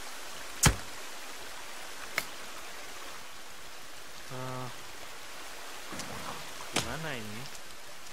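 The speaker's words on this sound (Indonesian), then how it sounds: "Ini hujannya kok nggak selesai ya?" Steady rain falls in the survival video game The Forest as a continuous hiss, broken by a few sharp clicks, while someone speaks briefly and tonal game sounds play near the end.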